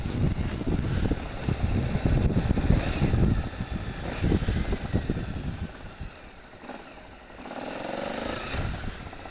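A Suzuki V-Strom motorcycle engine runs steadily and close, a rough low rumble that dips briefly and then swells again, with no talking over it.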